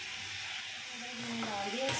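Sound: water boiling in pot for rice

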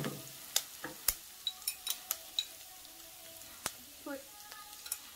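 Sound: stirring curry leaves frying in pan

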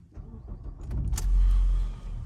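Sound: 2013 Ford Focus engine starting

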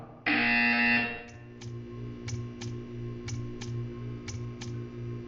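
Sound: buzzer in video game

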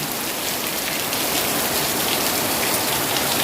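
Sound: rain falling

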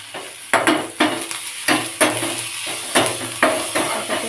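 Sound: onions frying and being stirred in a pan

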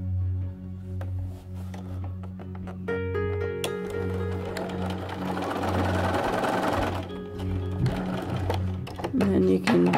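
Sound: sewing machine stitching hexagon quilt pieces

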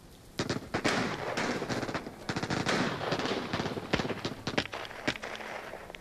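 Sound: massive gunfight in The Walking Dead Saints & Sinners VR video game

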